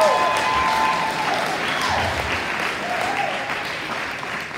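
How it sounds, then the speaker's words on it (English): Wedding guests clap in a sustained, dense round of applause that holds steady for several seconds at close range, with faint voices mixed underneath. "So a huge round of applause for everything that Kristina did."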